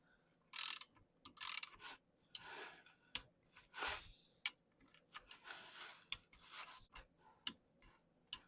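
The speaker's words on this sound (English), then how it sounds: "torque each one of these down to 10 foot-pounds." A ratcheting torque wrench clicks through irregular bursts and single ticks while bolts on a Comet 102C snowmobile primary clutch are tightened; close, quiet and sparse, with no talk.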